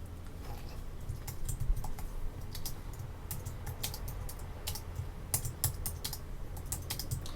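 Fast bursts of typing on a computer keyboard while entering text in Adobe Muse, with crisp irregular key clicks close to the mic over a steady low hum and no talking.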